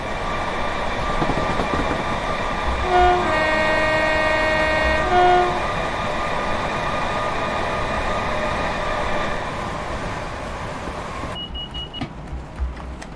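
Class 319 Thameslink electric train in Train Sim 2022 on the Midland Main Line, heard from the cab as a steady loud running hum with a sustained two-tone horn or warning tone around the middle, fading to quieter hum and faint clicks.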